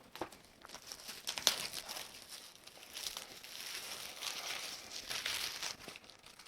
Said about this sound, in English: Get the classic cellophane off of this.